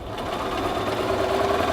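Sewing machine stitching the cuff seam of a men's shirt to the bottom of the sleeve, a steady close whirring hum that runs evenly throughout with no pauses.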